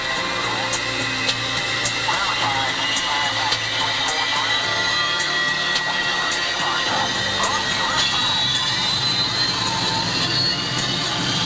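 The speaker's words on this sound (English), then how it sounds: "This is the backbone of the Air Force, the B-52 Stratofortress bomber." Jet engines of a B-52 Stratofortress bomber roar in a loud, steady, continuous rumble with a high whine on top, running without a break and with no talking.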